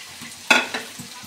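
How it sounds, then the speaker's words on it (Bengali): Onions and green chilies hitting hot oil in a pan already holding shrimp, one sharp burst of sizzle followed by a couple of smaller stirring scrapes, close and brief, with no talking. "এখন আমি পেঁয়াজগুলো দিয়ে দেবো,"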